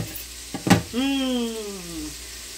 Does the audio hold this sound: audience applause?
no